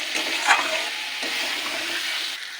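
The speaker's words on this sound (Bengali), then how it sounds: "ভালো করে কষিয়ে নেব।" Spiced potato masala sautés in a pan, a close steady sizzle with stirring scrapes and a sharp clink of the spoon early on, no voices.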